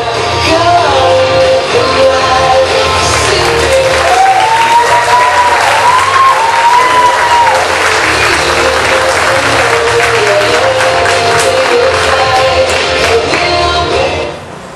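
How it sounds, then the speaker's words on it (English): Loud, sustained audience applause at a singing competition, dense continuous clapping with occasional whoops and shouts from the crowd, holding steady throughout before tapering at the very end. "Big round of applause, get her going now."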